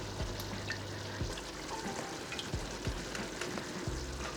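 Chicken curry with tinned tomato and a little water sautéing in a pan, a steady close frying sizzle with occasional stirring clinks and scrapes throughout, no voices.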